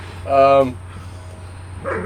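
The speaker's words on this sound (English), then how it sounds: "Puppy's coming through." A puppy lets out one short, bright bark, close by in a room, with quiet voices continuing faintly underneath.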